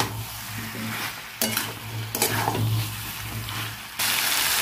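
A potato, pointed gourd and soybean curry is stirred in a pan, with a spoon scraping and clinking against the metal in irregular bursts over a low sizzle, ending in a louder burst of frying.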